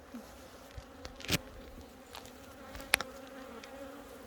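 Honey bees hum at a hive in a soft, continuous drone close by, with a few louder buzzes as single bees pass near.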